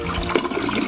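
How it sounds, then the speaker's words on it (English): A toilet flushes, with water rushing and swirling steadily down the bowl, loud and close for a short burst with no talking. "When you flush, the water goes round and round,"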